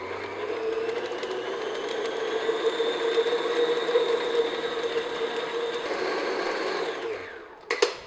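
An electric mixer beats unsalted butter in a bowl, a steady loud whirring motor drone held for about seven seconds before it winds down and stops, followed by a couple of small clanks.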